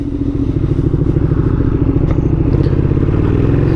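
A motorcycle fitted with Rizoma dragbars pulls away, its engine chugging loudly and close in a steady rapid pulse, with wind buffeting the microphone.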